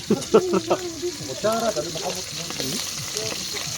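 Steady frying sizzle of dried fish in a pan, with a voice talking over it.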